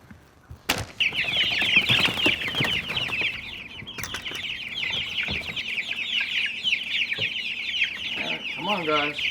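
Chickens on a homestead farm clucking and chattering steadily throughout, a dense flock close by with a sharp knock near the start and some faint background talk.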